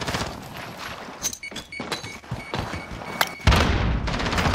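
A grenade blast in a first-person shooter game hits with a loud, sudden thud-and-boom roughly two-thirds through, followed by sustained rumbling noise, after a stretch of scattered gunfire-like thumps and clicks.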